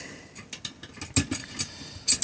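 A ratchet working a 13 mm bolt on a hand winch for a Suzuki Samurai gives several quick, sharp clicks in short bursts, close and fairly quiet, with no voices.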